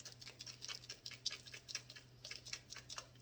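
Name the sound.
sprinkling broken-up seasoning onto ribs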